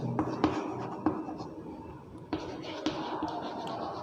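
Pen scratching across paper while a maths solution is written out by hand, with soft irregular strokes and a few sharper taps, close and fairly quiet, no talk.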